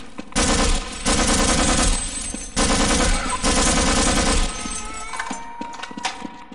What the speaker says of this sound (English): I gotta stop using the SMG.